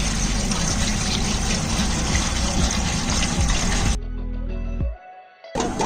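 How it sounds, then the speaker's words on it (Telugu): Water gushing into a large pot for boiling five kilograms of basmati rice for chicken dum biryani, a loud steady pour that cuts off abruptly, leaving brief low trickling before the rush returns. "ఒక 5 kgs బాస్మతి రైస్ గురించి నేను ఒక 20 లీటర్స్ వాటర్ తీసుకుంటున్నాను"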